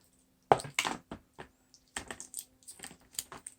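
Tape is peeled off the packaging of a dog training collar in a string of short, crackly rips and ticks, close and fairly quiet, with pauses between pulls.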